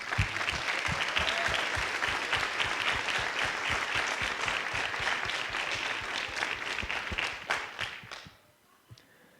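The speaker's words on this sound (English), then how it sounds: "join me in giving all the teachers and staff a round of applause." A graduation audience at Branson School in 2022 gives teachers and staff sustained, crowded applause, steady for several seconds and then fading away into near quiet.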